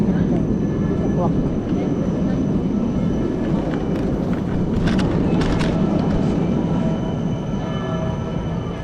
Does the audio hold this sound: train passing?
yes